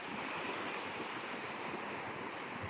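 Sea waves at the shore in Fahaheel, Kuwait, a steady faint wash of surf with some wind, continuous and without talk.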